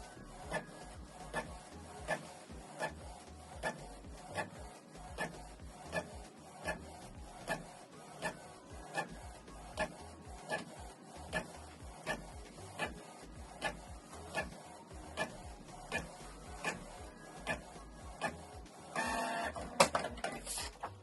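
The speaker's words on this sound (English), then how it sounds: "It will print out the second page." A Canon Pixma G650 printer printing a second page, giving a steady, regular mechanical click-and-whir cycle repeating about every second, close and fairly quiet, with a louder paper-feed rustle at the end.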